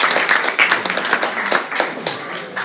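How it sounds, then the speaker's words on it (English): A club dinner crowd gives a round of applause, irregular hand claps rising and falling in a dense, close burst with no talk over it. "a big round of applause for a wonderful man"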